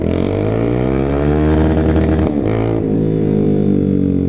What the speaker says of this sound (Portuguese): Esse escape aqui grita muito